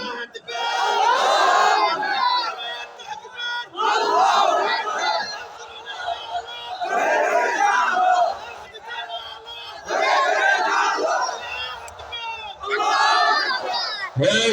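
At a waz mahfil, a large crowd shouts the takbir in repeated bursts. Loud collective chants of roughly two seconds each alternate with short lulls, and the calls run through the whole stretch.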